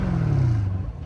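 A 2022 Corvette C8 Z51R engine starts, a loud close crank and catch settling into a deep, steady rumble that eases off over about a second.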